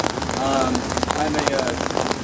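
Steady rain patters on surfaces outdoors during a Brooklyn street event, a dense continuous hiss with close drop impacts, fairly loud throughout.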